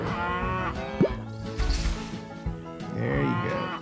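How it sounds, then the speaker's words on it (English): Cattle in the Hay Day farming game give several cartoonish moos, one after another, loud and close against a light game soundtrack with no talking. "we need to feed the cattle here."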